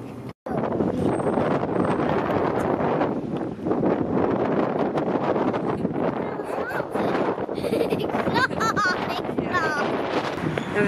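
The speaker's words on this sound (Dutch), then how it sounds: "het waait echt zo verschrikkelijk hard" Strong wind in Rotterdam buffets the microphone with loud, continuous roaring gusts, steady throughout with a short dropout near the start, while people talk beneath it.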